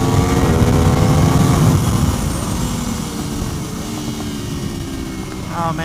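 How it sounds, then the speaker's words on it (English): Aprilia RSV4 superbike on a racetrack, its V4 engine droning loud and close, with the pitch sweeping across gear changes and easing slightly partway through. "Oh man, the V4 just sounds so amazing."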